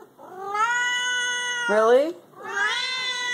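A hungry cat meows insistently for food, two long drawn-out meows separated by a short pause, close and clear, with a person speaking briefly over it.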